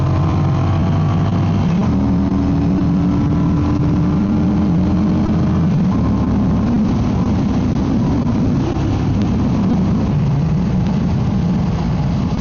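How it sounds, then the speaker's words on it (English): A Yamaha V Star 950 motorcycle engine pulls hard under acceleration, a loud continuous low rumble with rising droning tones and steady wind roar throughout, no voices. "So here's an aggressive pull. See how fast the 950 will speed up."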